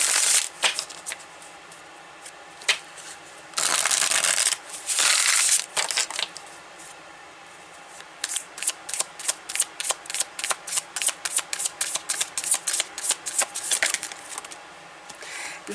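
A deck of tarot cards is shuffled up close: a couple of long riffling bursts, then a quick, even run of cards being slapped and cut by hand, with no talking.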